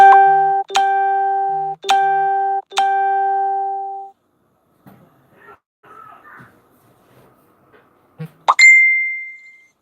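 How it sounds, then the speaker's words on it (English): Phone notifications chime three times in quick succession during a live stream, bright ringing tones that decay slowly, then faint small knocks and a final rising electronic blip. "Sorry about all that dinging, guys. I should have turned my notifications off."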